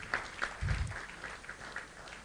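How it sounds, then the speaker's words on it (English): Audience applause at a political party governance summit, a brief patter of clapping with a low thump, moderately faint. "Please give him a round of applause, guys"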